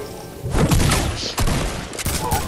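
Gunfire in a pirate-themed shooter game, with loud bursts of rapid shots and booming impacts arriving in clusters a few times in quick succession, with no talk over them.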